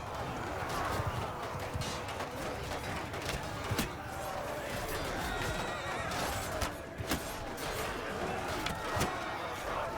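Cavalry horses charge into battle in an Amir Timur campaign of a video game, with repeated whinnies, galloping hooves, clattering and creaking mechanisms and sharp impacts in a busy, continuous din.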